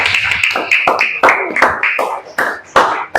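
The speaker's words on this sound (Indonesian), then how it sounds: "Tepuk tangan." A group of children clapping their hands in a series of sharp, close claps with uneven rhythm, with children's voices mixed in.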